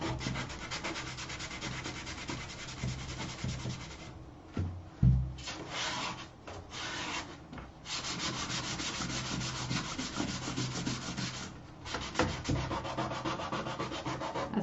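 Wood is sanded by hand with sandpaper in steady back-and-forth strokes, close and fairly quiet, with a brief knock and a few short pauses along the way.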